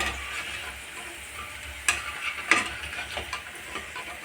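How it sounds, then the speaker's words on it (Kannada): Snacks frying in a pan of hot oil, a steady low sizzle with soft bubbling and scattered crackles and pops, close and even, no voices. "ಎಣ್ಣೆಲಿ ಕರಿತಾ ಇದ್ದೀನಿ. ಎಣ್ಣೆಲಿ ಹಾಕಿದ ತಕ್ಷಣ ಹಂಗೆ ಎದ್ದು ಬಂದುಬಿಡ್ತವೆ."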